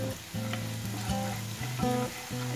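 A frying mixture with turmeric powder is stirred in a pan for a microgreen thoran, a soft, quiet sizzle with rhythmic stirring strokes and a low humming tone underneath.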